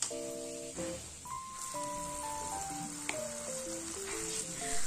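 Flour-coated eggplant frying in hot oil gives a constant, moderately quiet hiss and crackle, with a light melodic tune playing over it.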